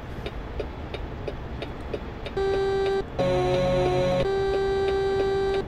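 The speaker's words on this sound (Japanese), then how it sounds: "クラクションはいただけないな。" A Kenworth truck's horn in American Truck Simulator sounds as a thin, steady electronic tone held for a few seconds, breaks off briefly, returns in a wavering pattern, then settles into a long held note over low engine hum.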